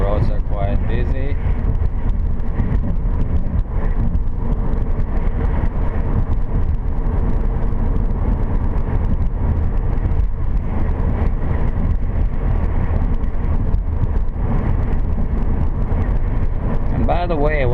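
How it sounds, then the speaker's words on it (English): Busy rush hour road traffic heard from inside a moving car on a driving lesson, a loud steady engine and road rumble with passing vehicles throughout, while someone talks over it. "Rush hour traffic, the roads are quite busy."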